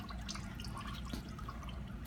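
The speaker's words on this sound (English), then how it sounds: "that's the water just leaking off of it." Water dripping and trickling off a pad-cleaning recovery machine, a steady close wet patter of small drips running continuously without a break.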